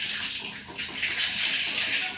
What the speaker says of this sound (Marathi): मोहरी तडतडली छान अशी.